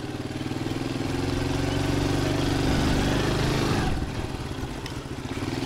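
A Chinese G-moto Cross X Pro 125 off-road motorcycle drones steadily up close as it is ridden over rough hilly ground, its engine note dipping briefly partway through, with no voices.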